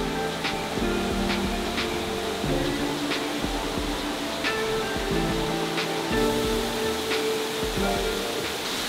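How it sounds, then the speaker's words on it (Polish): The Maniava waterfall in the Ukrainian Carpathians makes a steady, broad rush of falling water that fills the whole stretch, with faint clicks and handling noise over it. "doszedłem do wodospadu, jest za mną piękny, maniawski wodospad"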